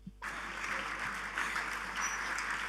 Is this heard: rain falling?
no